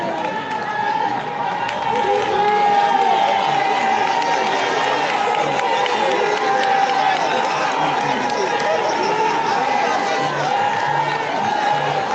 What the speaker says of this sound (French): On applaudit très très fort pour ce mot venant des artistes.